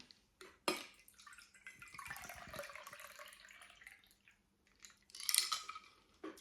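A cocktail pours into a cocktail glass in a short trickling stream, with a clink of glassware and a second splash near the end; quiet and close.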